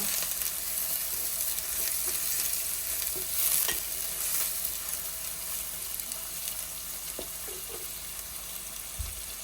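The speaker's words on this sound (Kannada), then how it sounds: "ಒಳ್ಳೆ ಫ್ರೈ ಆಗಬೇಕಿದೆ. ಲೋ ಫ್ಲೇಮಲ್ಲಿ ಇಡಬೇಕು ಫ್ರೈ ಮಾಡುವಾಗ" Garlic frying over a low flame while being stirred, a steady soft sizzle with occasional scraping taps from the stirring.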